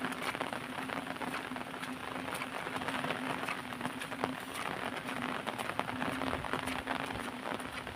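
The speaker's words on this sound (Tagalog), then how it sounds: "Kusok kayong uwan." Heavy rain pours steadily during a storm that brought flooding, a dense continuous hiss with scattered drop impacts and no talk.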